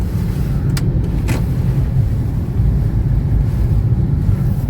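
Car traffic crawling in a jam beside a market, a steady, close engine and road rumble with a couple of brief sharp clicks early on.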